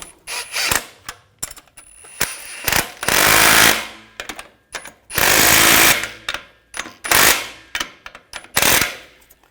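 Bursts of a power tool or ratchet tightening bolts on the exhaust connection of a 2004-2009 Audi A4 Quattro 2.0L turbo, several rattling runs of a second or so, loud and close with brief pauses between.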